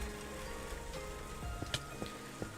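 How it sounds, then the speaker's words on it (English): Heavy storm rain in a video game, heard as a constant rushing patter with scattered sharper drops and taps, fairly close and steady, with no speech. "Listen to that fucking rain."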